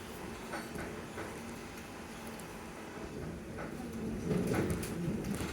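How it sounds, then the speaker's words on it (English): An Elizabeth line train running from Heathrow toward Paddington and passing a Heathrow Express train, heard from inside as a steady low rumble and rattle of wheels on track that swells louder near the end. "This is the Heathrow Express we're overtaking."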